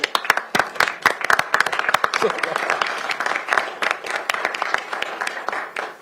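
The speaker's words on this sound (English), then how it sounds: "Let's give them a round of applause." A Pierce County Council meeting audience gives a round of applause, crisp individual claps over a steady wash of clapping that carries on for six seconds, with murmuring voices underneath.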